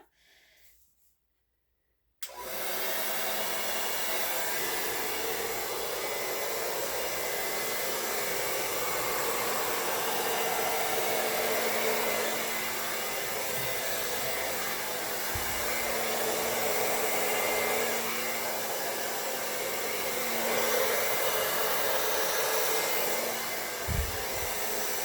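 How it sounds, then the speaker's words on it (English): New blow dryer switching on and roaring steadily at close range over poured acrylic paint in a Dutch pour, a loud continuous rushing hum with no talking. "I have a brand new blow dryer that I really don't want to get"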